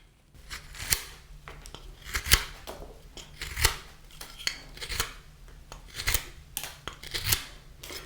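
A carving knife makes sweep cuts in wood: a close, steady run of short dry scraping strokes, one after another, with no talk.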